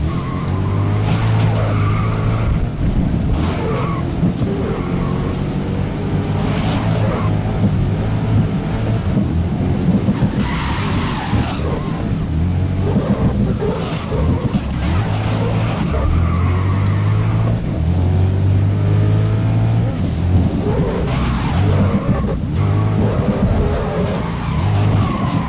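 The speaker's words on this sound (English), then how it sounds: "Wow, the drifting is sick." Loud, sustained tire squeal and screeching skids from a car drifting in a racing video game, over a constant engine roar that runs the full length without pause.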